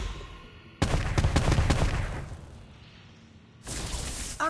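Whizz-bangs charm effect in the video game Harry Potter Magic Awakened: a loud burst of rapid crackling pops and bangs that fades into a quieter tail, followed by another loud burst near the end.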